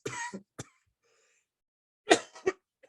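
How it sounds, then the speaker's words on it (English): Two separate bursts of harsh, close coughing, a single hack followed by a pause and then a louder double cough. "I'm sorry that I'm coughing."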